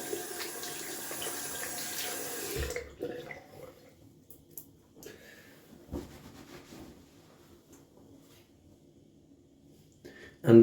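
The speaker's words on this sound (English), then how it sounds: "Rinse off the hands." Running tap water rinses hands at a sink during a wet-shaving routine, a steady broadband splash for the first few seconds, then fainter trickles and drips with small handling sounds.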